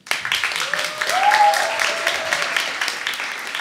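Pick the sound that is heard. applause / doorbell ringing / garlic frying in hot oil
applause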